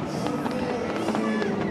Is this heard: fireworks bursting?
yes